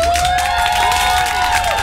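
An audience claps and cheers for a choir at a choir competition, dense applause mixed with sustained tones and voices throughout.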